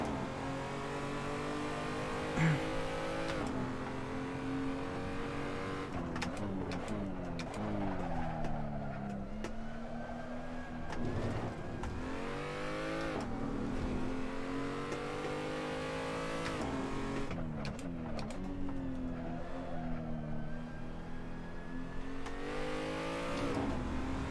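A race car engine in the Assetto Corsa sim racing game revs up and down through corners, the pitch rising and falling steadily under the throttle, with occasional tire squeal and nobody speaking.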